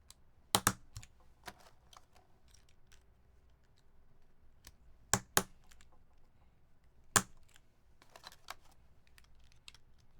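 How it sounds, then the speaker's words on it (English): Tight HHKB keycaps are pressed onto a keyboard, making sharp plastic clicks and snaps in scattered clusters, close and fairly quiet against a near-silent background. "these are taking quite a bit to push these in"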